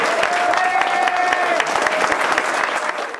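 A crowd applauds at the opening of a LaSalle campaign office for Denis Coderre's team, with dense, loud, steady clapping and a few voices mixed in before the clapping fades at the end.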